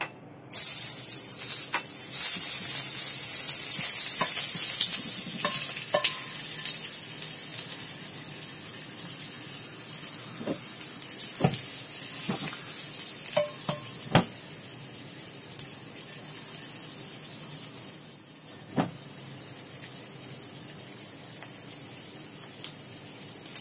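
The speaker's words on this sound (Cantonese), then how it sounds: "咁就先爆香嗰個薑片先啦" Ginger slices frying in hot oil in a wok give a steady, close sizzling hiss, with scattered sharp pops and crackles through it.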